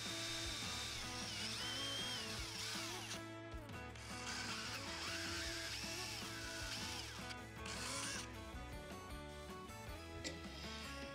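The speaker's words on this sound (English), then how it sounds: "I want to make sure that I drill this hole beyond that point and deep enough so that when I put my dowel in" Power drill boring a dowel hole into a broken wooden chair leg for a furniture repair, a loud, sustained whirring with shifting pitch and brief slowdowns, close up and without talk.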